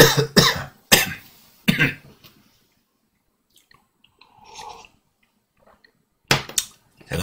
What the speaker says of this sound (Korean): 제가 아침에 새벽에 이걸 녹화를 하고 있는데 조금 기침이 났습니다